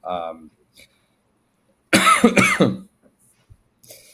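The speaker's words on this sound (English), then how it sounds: "Feel free to cut out my coughs, by the way." Someone coughs sharply twice in close succession during a conversational interview, with brief murmurs before and small throat sounds after, near and loud against otherwise quiet background.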